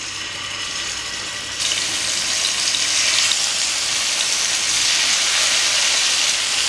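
Chicken pieces go into hot oil to shallow fry, and a quiet sizzle jumps to a loud, crackling fry that stays strong and close, swelling slightly as it goes, with no one talking.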